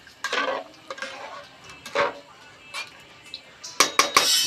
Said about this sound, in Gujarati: હવે આપણે આ મિક્સ કરી લઈશું